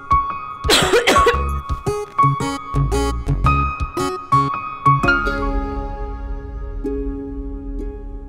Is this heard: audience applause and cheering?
no